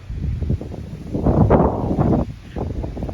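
Gusts of wind buffet the microphone in a low, rumbling roar that swells in the middle and eases off toward the end, with no voices.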